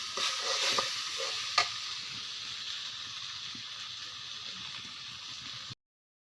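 Onion, garlic and cumin sizzle in hot oil for a tempering, a steady hiss with a few clinks near the start that fades slightly before cutting off abruptly into silence.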